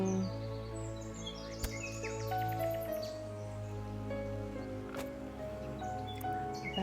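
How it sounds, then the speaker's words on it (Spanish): Birds sing and chirp in scattered, overlapping calls along a countryside trail with old irrigation channels, fairly faint over a soft background hum, with no voices. "escuchad, una parte de los pájaros, que es una pasada"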